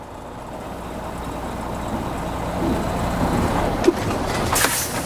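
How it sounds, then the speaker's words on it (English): A semi truck reversing to slide its trailer tandems: a steady, fairly loud diesel rumble that builds slightly, with a brief sharp knock near the end. "Put it in reverse."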